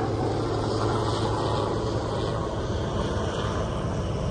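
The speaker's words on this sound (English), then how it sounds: "helicopter coming" A helicopter flies overhead with a loud, constant rumbling roar that fills the whole moment without breaks.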